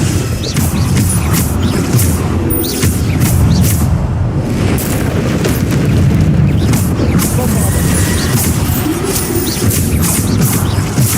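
Bombarda explosion spells in the game Hogwarts Legacy, repeated heavy booms and crashing bursts in rapid succession over dense combat noise, loud throughout.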